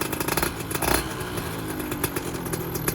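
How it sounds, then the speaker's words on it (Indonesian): A motorcycle engine with a new piston and an air box filter, on its first run, revs up close, loud and rough, with steady mechanical clatter and small surges in the throttle throughout. "Kalau digas bunyi ngelitiknya hilang ya"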